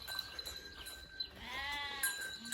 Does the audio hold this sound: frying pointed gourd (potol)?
no